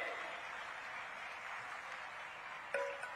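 Steady, moderately faint applause from an audience at a Ramlila festival stage event, continuous clapping throughout with a brief louder clink near the end.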